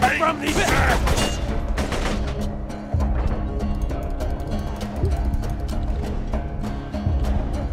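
Shotgun blasts in Borderlands 2 crack out loud, with a dense burst of gunfire near the start and more booming shots spread over a rumbling game soundscape.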